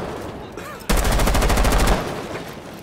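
Shotgun fire in the video game Rainbow Six Siege, a loud, close burst of rapid repeated blasts lasting about a second, between stretches of quieter game ambience.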